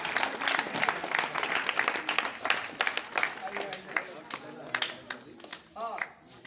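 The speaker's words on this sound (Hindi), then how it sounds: "जोरदार तालियां।" Students and audience at a Children's Day class event clap enthusiastically in uneven bursts, with a voice speaking over the applause as it tapers off.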